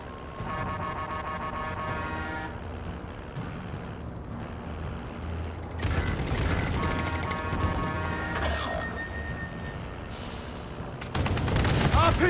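Gunfire and battle noise in Call of Duty: Modern Warfare, with bursts of shots, mechanical rumble and crashes running continuously at moderate loudness, with tonal music or game cues layered over it.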